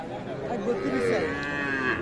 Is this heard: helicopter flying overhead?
no